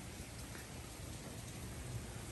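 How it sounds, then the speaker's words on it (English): Steady rain falling outdoors during yard work in a storm, a dense even hiss of drops with no breaks, moderately loud and alone with no voices. "And the rain's already started."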